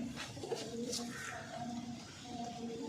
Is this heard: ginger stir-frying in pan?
no